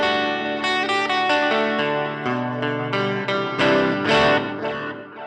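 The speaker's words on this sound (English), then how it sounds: "very short decay reverb. It almost gives like a little slap back feel." Distorted electric guitar chords, played through an HX Stomp pedalboard, ring out with a short, tight reverb that adds a quick slapback echo behind each strum.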